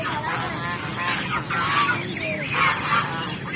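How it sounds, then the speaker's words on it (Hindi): Geese and ducks at a zoo honk repeatedly in bursts, fairly close, over a steady background murmur with no talking. "यहाँ पे आप देख रहे हैं डक, बतख"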